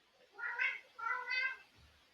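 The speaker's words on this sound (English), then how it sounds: "I do hear the cat." A cat meows twice in quick succession, close and fairly clear, each call drawn out and rising then falling, in an otherwise quiet room with no talk.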